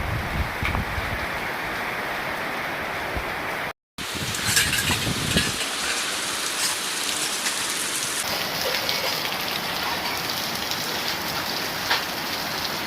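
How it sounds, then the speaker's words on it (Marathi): Heavy rain pours steadily in a dense, close roar, briefly cutting out once before resuming at full strength. "जोरात पाऊस चालू आहे आता थांबावं लागेल मला इथे"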